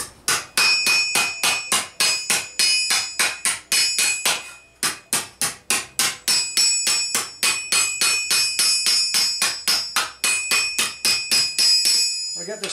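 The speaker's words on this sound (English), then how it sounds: "use a flatter hammer now" A flat hammer strikes a steel rerebrace for medieval arm armor, dozens of bright ringing metallic blows in a fast steady rhythm, close and loud, with a couple of brief pauses between runs.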